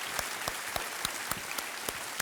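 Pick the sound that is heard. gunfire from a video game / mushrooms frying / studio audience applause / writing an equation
studio audience applause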